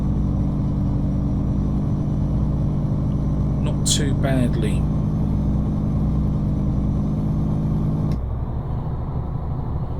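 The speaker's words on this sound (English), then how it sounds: "Now how's the engine brake going to do?" A truck engine rumbles steadily with its engine brake on a dusty construction-job road in the Mexico Extremo driving game, a low continuous drone while someone speaks briefly over it.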